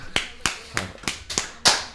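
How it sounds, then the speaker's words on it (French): A handful of sparse, uneven claps from a few people, sharp and fairly close, spaced irregularly. "je demande à toute la salle d'applaudir"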